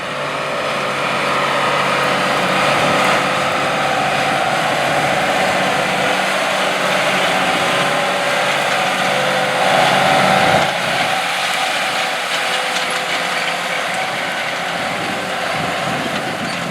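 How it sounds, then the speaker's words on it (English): Large John Deere 8245R and 7210R tractors pull 5-shank 915 V-ripper subsoilers through a field in tillage, a loud continuous engine drone with steady rumble throughout. "The farm uses John Deere 8245R and John Deere 7210R tractors to pull its 5-shank 915 V rippers to work up the ground"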